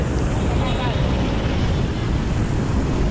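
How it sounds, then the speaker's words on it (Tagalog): Strong, constant wind from a typhoon roaring across the microphone, a loud unbroken rush with no pauses. "medyo malakas ang hangin"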